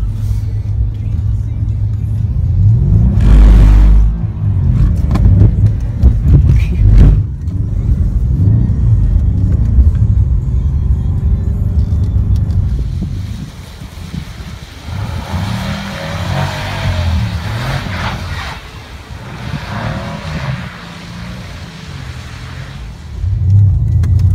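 An AMG car engine roars and revs hard while skidding into a spin, rising and falling in bursts with tire noise, loud and close, with intermittent talking over it.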